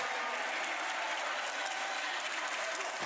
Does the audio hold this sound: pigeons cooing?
no